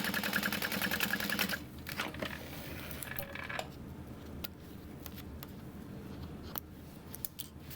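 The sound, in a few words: sewing machine stitching backpack fabric edge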